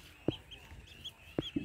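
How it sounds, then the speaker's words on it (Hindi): A duckling peeps and clucks in short bursts, two sharp calls separated by a pause, with a high faint chirping trill in between. "हाँ ये है बत्तख का बच्चा"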